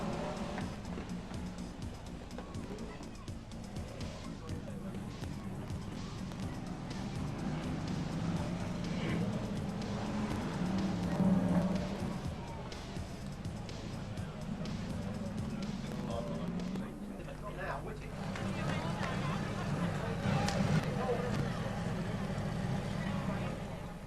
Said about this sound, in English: 28 cars have made it on track then as we go racing with the 18th annual staging of the Long Eaton